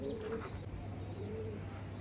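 Low, soft cooing of domestic pigeons being released murmurs against a steady hum, a couple of gentle coos drifting in and out over two seconds.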